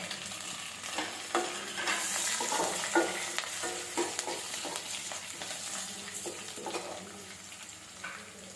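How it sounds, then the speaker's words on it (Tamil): Continuous sizzling of onions sautéing in a hot pan with repeated spatula stirs and scrapes at an irregular pace, close and moderately loud. "வெங்காயம் ஓரளவுக்கு சாஃப்டாக வதங்கிடுச்சு."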